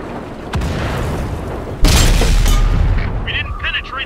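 KV-1 tank cannon in World of Tanks firing a single heavy, booming shot up close, the blast cutting in sharply and rumbling away under game voice chatter.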